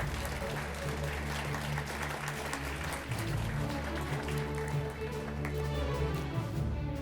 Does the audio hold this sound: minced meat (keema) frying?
no